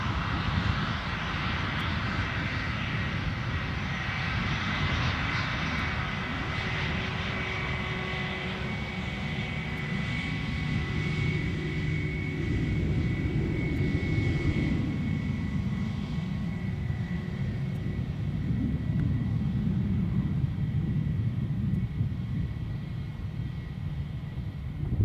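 An Airbus A321 airliner at Edinburgh Airport gives a sustained engine roar that swells and shifts gradually as it moves, heard from a distance outdoors without talk.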